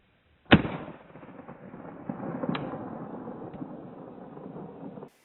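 A single sharp gunshot from a gun at an outdoor shooting range, loud and close, followed by a long rolling echo and a fainter second report about two seconds later.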